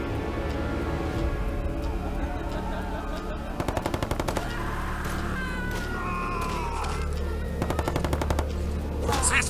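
Machine-gun fire as a sound effect in a Halo audio story, several rapid bursts of automatic shots over a busy background of voices and other effects.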